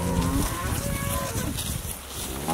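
Vendor-bred, one-mark cattle moo in a low drawn-out bellow against steady wind and outdoor background noise, with several overlapping calls nearby.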